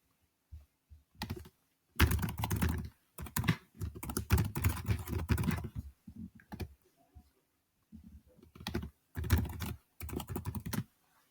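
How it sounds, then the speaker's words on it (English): Keys clatter on a Chromebook keyboard in bursts of rapid typing separated by short pauses, close and fairly loud with no voices. "type in Zoom"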